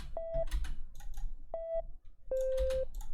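A synth pluck built from sine waves in Ableton 12 sounds three times: short, clean electronic tones with the last held longer, mixed with light clicky percussion.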